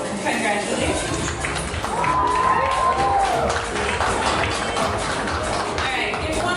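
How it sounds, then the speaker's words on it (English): A convention crowd at a cosplay event claps and cheers for the cosplayers, a loud continuous mix of applause and whoops with voices talking over it. "give one more round of applause for our lovely cosplayers"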